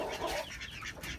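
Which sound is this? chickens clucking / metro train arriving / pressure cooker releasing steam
chickens clucking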